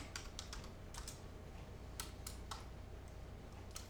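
Soft, quick keystrokes tap out a message on a computer keyboard in short irregular bursts, faint against a low steady hum.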